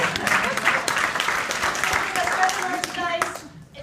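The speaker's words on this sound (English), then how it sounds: "Everybody clap for that." An audience claps at a fundraising talk for a thrift store social enterprise, a steady burst of mixed hand claps lasting a few seconds with some voices mixed in before it tapers off.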